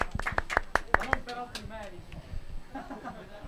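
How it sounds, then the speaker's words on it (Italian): A small crowd at a jazz quartet jam session gives brief applause for Giuseppe La Grutta, a quick burst of separate claps close by that fades after about a second, with people talking over it. "Facciamo un applausino a Giuseppe La Grutta"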